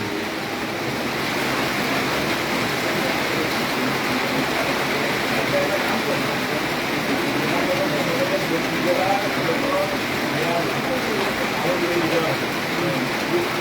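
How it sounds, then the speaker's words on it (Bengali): Heavy rain pours down steadily in a dense, continuous roar over a city in Cumilla, with a faint gusty wind mixed in and no pauses throughout. "প্রচণ্ড বৃষ্টি হচ্ছে একটু বাতাস আছে"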